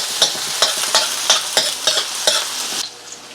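Garlic and onion sautéing in a pan for spaghetti sauce, a steady sizzle broken by about eight regular scraping stir strokes, close and fairly loud, with the frying dying down near the end.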